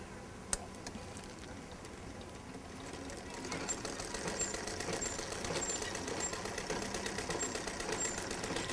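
A sewing machine stitches together pieces of a bag made from plastic waste, with a rapid, faint mechanical whirr that grows busier and more rhythmic midway, and no voice over it.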